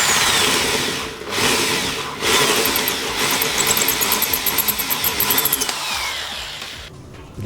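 A power drill bores holes into a motocross motorcycle crankcase that was broken by the chain, giving a loud, continuous whir that dips briefly, then turns into a chattering, pulsing grind as the bit bites into the metal.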